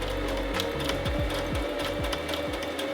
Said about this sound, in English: So I'm just folding it over and sewing here.